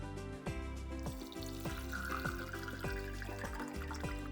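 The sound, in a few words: white vinegar poured into glass container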